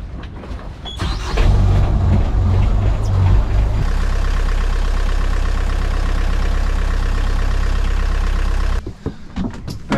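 A sailboat's inboard engine running while moored in Mexico, a loud, steady low rumble with a rhythmic mechanical chug that kicks in after a second of clatter and then cuts off near the end.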